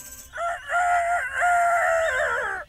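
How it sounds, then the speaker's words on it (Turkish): A rooster crows loudly and close by, a long drawn-out call with a rising, wavering finish. "Horoz nasıl ses çıkarır?"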